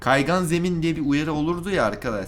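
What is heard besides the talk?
None of the usual background noises is heard.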